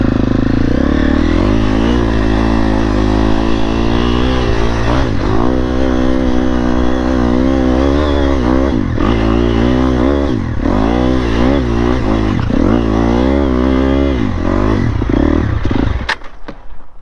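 A motorcycle engine revs hard and close, with a continuous loud roar rising and falling through repeated throttle blips for about sixteen seconds before cutting off abruptly.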